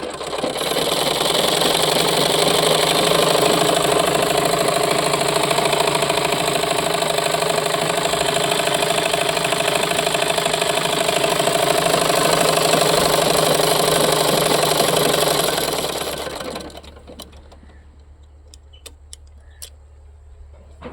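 A new sewing machine runs continuously at a loud, steady drone with a fine rapid mechanical chatter for about sixteen seconds, then stops, leaving a few faint clicks.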